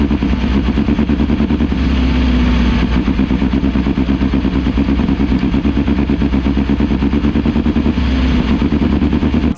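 Four-cylinder midget race cars on a parade lap at Merced Speedway during a USAC National Midget Series night, engines droning and burbling loudly together in a steady, continuous roar.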